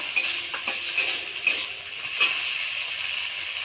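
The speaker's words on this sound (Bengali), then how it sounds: "এবার সব কিছু ভালো করে কষিয়ে নেব" Garlic, tomato and chopped green chilli sauté in a pan under a soft sizzle, a spatula scraping and tapping against the metal in a loose rhythm of strokes, close and alone with no voices.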